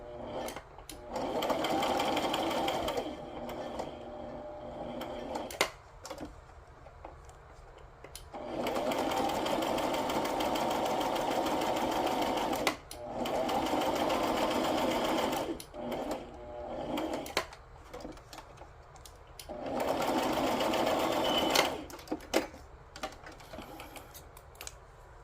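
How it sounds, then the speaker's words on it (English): Home sewing machine running a straight stitch in several long bursts of fast, steady mechanical whirring, separated by brief pauses with small clicks and handling noises. "I'm going to do a straight stitch because if I do the zigzag, it's really not going to give me much space."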